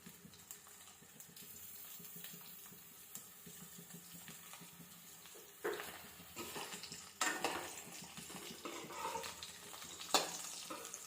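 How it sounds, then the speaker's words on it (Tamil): Chopped brinjal sautés in oil in a pan over a medium flame, a steady soft sizzle with stirring scrapes and louder clatters of the spatula in the latter half. "இந்த கத்திரிக்காயை அப்படியே வதக்கிக்கலாம்"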